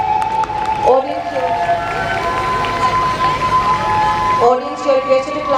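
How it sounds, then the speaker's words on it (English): An outdoor audience at a school sports day claps for the track winners, with a sustained broad patter of many hands, while tonal sounds ring over the clapping. "you are requested to clap more enthusiastically for the winners."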